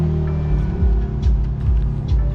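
The engine of a 2021 BMW G80 M3 fires up and settles into a loud, deep, close-range rumble with slight surges in pitch.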